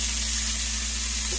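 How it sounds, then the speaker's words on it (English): Vegetables hitting a hot frying pan, the same pan used for salmon and shrimp, give a steady, loud, even sizzle with no break for the whole short moment. "Next, I'm going to throw in my vegetables in the same pan."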